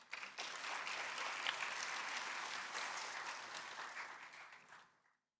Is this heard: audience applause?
yes